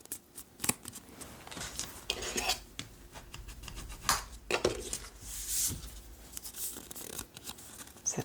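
A sheet of paper being folded in half by hand, heard as close crinkling, rustling and rubbing with a few sharper creases, fairly quiet and steady throughout, with no voices.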